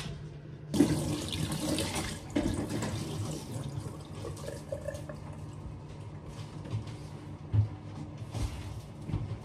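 A kitchen tap runs steadily into a sink at home, a continuous close rush of water that starts abruptly and carries on with small clinks and bumps.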